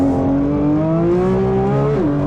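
A Porsche 911 GT3 engine holds a high, screaming rev near 9,000 RPM in first gear, pitch climbing steadily before dipping briefly near the end, loud and close.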